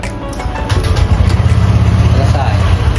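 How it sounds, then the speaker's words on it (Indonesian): A motorcycle engine idles right after being started with the starter button, giving a steady, close, loud low rumble that holds throughout. "maka mesin akan hidup"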